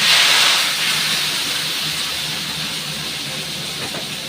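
Green jackfruit pieces drop into hot oil and fry with a loud, close, hissing sizzle that bursts up at first and then settles into a steady, slowly fading crackle.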